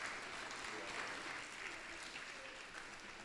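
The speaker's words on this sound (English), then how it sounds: "Please give our mayor a round of applause." A crowd at a city's state-of-the-city event applauds the mayor, a thick, continuous clatter of many hands that stays fairly level and eases off slightly toward the end.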